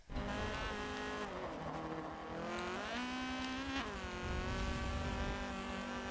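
A Honda CRX racing in Forza Motorsport 7, its engine droning loud and steady with pitch rising and falling through gear changes, plus faint tire squeal.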